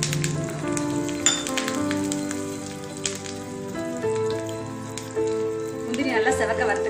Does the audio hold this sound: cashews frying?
yes